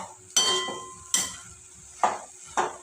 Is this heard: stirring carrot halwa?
yes